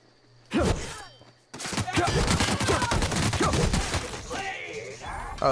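Rapid bursts of gunfire from the video game The Outer Worlds, a short shot followed after a pause by a long, loud, dense volley of repeated shots that carries on to the end.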